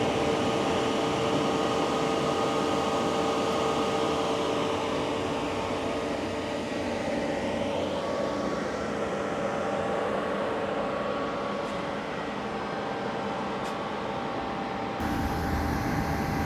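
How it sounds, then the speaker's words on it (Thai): A Lotus Eletre R electric SUV's cooling fan pulls air in through the open front active grille while charging, a loud, steady whooshing drone that holds evenly throughout with no talk. "แล้วก็จะได้ยินเสียงพัดลมดูดอากาศเข้าไปเนี่ยค่อนข้างดังเลย"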